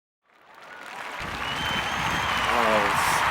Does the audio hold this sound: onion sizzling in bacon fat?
no